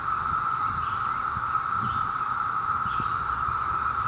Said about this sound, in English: that is the sound of the cicadas looking for a mate